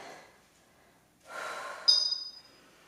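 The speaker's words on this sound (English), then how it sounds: "Inhale all the way down. Exhale all the way up." A person working through a weighted compound strength exercise breathes in, then gives a loud, forceful exhale through the mouth and nose, close up and with no talking.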